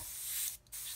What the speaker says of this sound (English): The airbrush is clear.